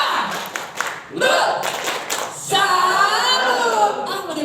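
An audience at a lively presentation performs the tepuk salut clapping routine, several distinct rhythmic clap bursts followed by voices chanting and cheering loudly, close and energetic.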